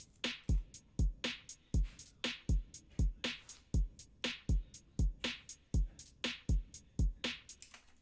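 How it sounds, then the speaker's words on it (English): A layered snare drum hits in a steady groove alongside kick drum and hi-hats, each snare a sharp bright crack with a short tail, repeating evenly about twice per second and mixed loud and clean without any voices. "In the mix, with the kicks and the hi-hats, it sounds like this."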